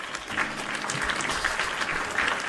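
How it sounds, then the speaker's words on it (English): Applause on a Nintendo Switch 2 Direct livestream, a steady, fairly loud wash of clapping with some crowd noise, likely a sound effect, running unbroken for a few seconds. "Round of applause for you all"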